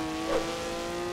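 Tires squeal steadily as a touring car drifts through a corner in a sim racing Sport Touring Series race at the Nürburgring GP circuit. The short, sustained screech sits over a constant engine drone.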